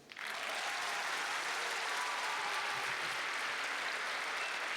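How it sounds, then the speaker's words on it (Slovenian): Sustained, loud applause from a crowd at a school graduation ball in Maribor starts abruptly and continues evenly, filling the room without talk. "Aplavz."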